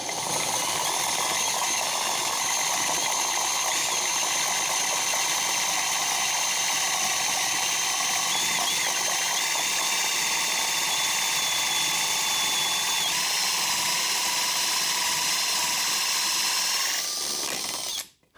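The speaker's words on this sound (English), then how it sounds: "let's try drilling it in deeper and see what happens" A Makita XGT cordless drill whines continuously at high speed for a long stretch, driving a countersink bit, steady and close, before abruptly stopping at the end.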